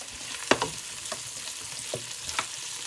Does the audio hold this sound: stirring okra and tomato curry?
yes